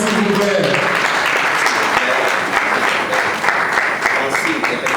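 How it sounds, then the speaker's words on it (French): Audience applause at a foundation launch event, a dense steady wash of clapping from a crowd lasting throughout, loud and continuous with no pauses. "Est-ce qu'on peut applaudir s'il vous plaît?"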